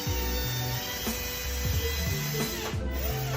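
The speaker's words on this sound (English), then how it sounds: "I'm going to take it and rub it on this polishing wheel" A spinning polishing wheel loaded with black polishing compound rubbed against it: a steady motor whine with a scratchy rubbing hiss and repeated stuttering pitch jumps as the bar presses on and off.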